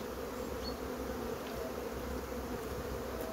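Honey bees drone in a continuous, close swarm buzz as an overcrowded colony is moved out of its hive, the hum steady and even throughout with no talking.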